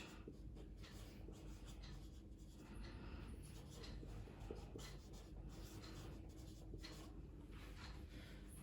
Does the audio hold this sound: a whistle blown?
no